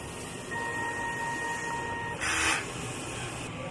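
Smart 4 Heads printer running a head clean, a steady mechanical hum with faint tonal whines and a brief louder hissing burst of pumping or spraying partway through.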